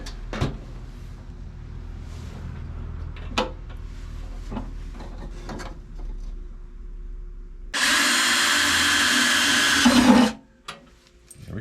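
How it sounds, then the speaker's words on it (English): A power drill bores holes while building a tailgate table for a Jeep Wrangler, a loud whining burst of about two and a half seconds following quieter handling knocks and clatter. "I'm going to finish drilling this"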